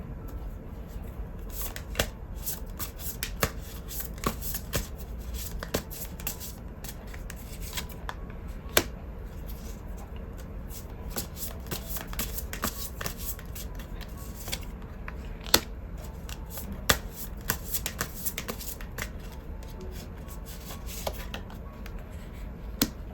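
Tarot cards being shuffled up close in a steady run of crisp riffling slaps and flicks that continues throughout without speech.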